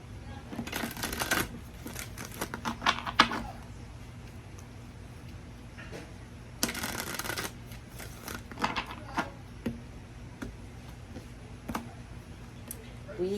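Alice oracle cards being shuffled close by, with quick riffling bursts near the start and at about seven seconds, plus scattered light clicks and taps in a quiet room.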